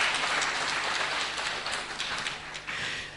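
Audience applause in a hall during a live on-stage interview event, a dense, steady wash of many hands clapping throughout, loud and close with no speech over it.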